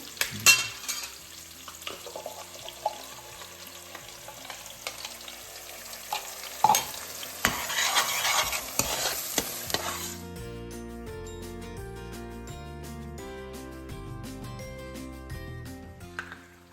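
Onion paste and masala sizzling in a pan while being stirred, a bright close crackle with scraping strokes that fades after about ten seconds into a softer, steadier simmer.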